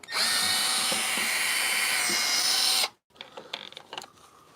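A powered screwdriver backs screws out of a BMW R1250GSA motorcycle: a loud, steady whir lasts about three seconds, then stops, followed by a few small clicks and rattles up close.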